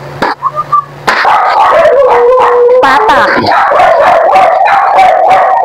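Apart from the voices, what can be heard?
dogs barking and howling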